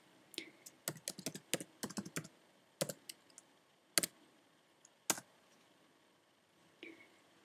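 Clicks of typing on a computer keyboard come in an uneven burst of quick keystrokes, then a few isolated taps with pauses between, close and fairly quiet.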